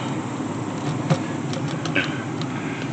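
A Ford F250 pickup truck engine idles steadily at a low rumble with the air conditioning running, a few faint ticks and clicks scattered over it.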